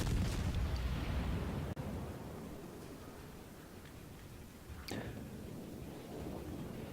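Naval guns firing at the battleship Montana in a warship video game, a heavy muffled boom opening the clip, a sharp crack near two seconds and another blast near five seconds over a low rumbling wash.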